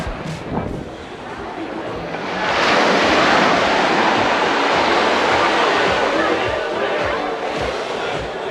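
Surf washes steadily onto St. Jean Beach on St Barths, a broad rushing roar that swells after a brief lull and holds, with wind buffeting the microphone and a voice near the start.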